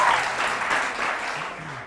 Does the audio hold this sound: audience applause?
yes